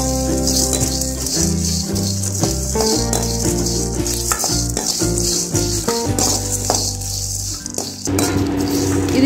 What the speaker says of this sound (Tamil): இது கூடவே 2 வரமிளகாய் போட்டு நல்லா வறுத்துக்கிறோம்.